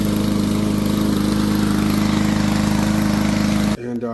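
A Yard Machines push mower with a Powermore engine runs at a steady, loud, throbbing pace after a carburetor main jet cleaning, then cuts off abruptly near the end.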